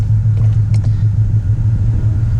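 A 2018 Ford Mustang GT fitted with a Whipple supercharger cruises along a street, giving a steady, loud low engine rumble with a brief higher whine near the start.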